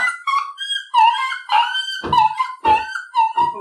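A dog hit by a thrown stick during a stage play yelps and whimpers in a string of high, loud cries with short gaps, ending in sharper yips.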